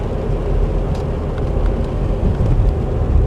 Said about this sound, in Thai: เห็นไหมฝนตกแล้วนะคะมืดฟ้ามืดดิน